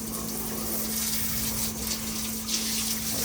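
Coolant spraying inside an MR1 milling machine makes a steady, loud hiss and wash of liquid, with a constant tonal hum from the machine running beneath it.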